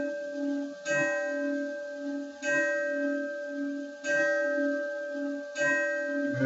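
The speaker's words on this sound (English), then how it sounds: "So, for that to chime, granddad's clock." A grandfather clock chimes four evenly spaced bell-like strikes, each leaving a long, sustained ringing tone that overlaps the next. It sounds clear and close with no voices.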